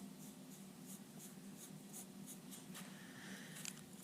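Light pencil strokes scratch softly across paper while a nose is sketched, a faint, steady rubbing with short repeated passes over a quiet room hum.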